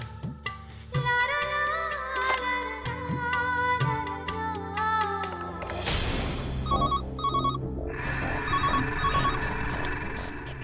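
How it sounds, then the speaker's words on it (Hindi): A telephone rings in an indoor domestic setting, a steady repeating electronic ring that sounds loud and close, heard alone with music playing throughout and no talking. "हाँ बा, अभी फोन करता हूँ।"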